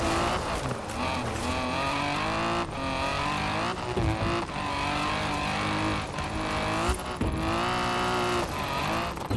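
Car braking hard, handbrake drifting and accelerating in Forza Horizon 4, with a steady loud engine roar and tire noise throughout, revving shifts and brief squeals over continuous racing sound.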